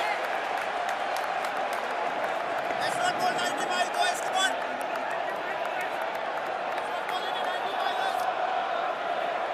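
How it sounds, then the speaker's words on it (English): A sizeable but not full crowd at an India versus England cricket Test match makes a continuous roar with applause and cheering. A burst of clapping swells midway, and voices talk over the noise. "Not a full crowd by any means, but a lot of noise"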